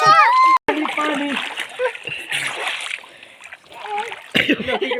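Water splashing in a village swimming pool as children play, with bursts of splashing mixed with loud, excited children's voices shouting and calling out nearby.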